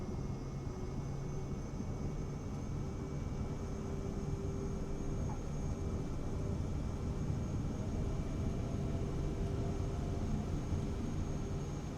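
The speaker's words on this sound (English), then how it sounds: "hear that tiny little jet in the back scream" Broad steady roar from the small single jet engine of a Cirrus Vision Jet SF50 at full takeoff power in the flight simulator MSFS 2024, unbroken and even with a faint high whine on top and no speech.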